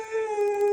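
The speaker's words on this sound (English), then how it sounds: "Scamp joins in on their celebratory howling and gets up close and personal with these lovable mutts." Cartoon dogs howl together in a sustained, steady chorus, with a strong tonal pitch and harmonics held throughout the brief moment. The howl is loud and close, with no talk over it.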